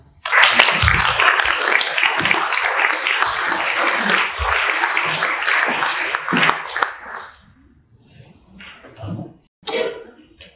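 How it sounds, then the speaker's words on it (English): Sustained applause from a conference audience, dense clapping that holds steady for about seven seconds before dying away into scattered claps and quiet room noise. "Please, let's welcome Tommy with some applause."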